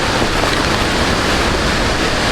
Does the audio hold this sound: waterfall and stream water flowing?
yes